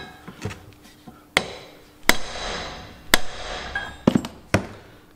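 Tractor front wheel bearings on a Massey Ferguson 135 being hammered into place with sharp metallic blows, several irregular strikes close by and fairly loud, with no voices.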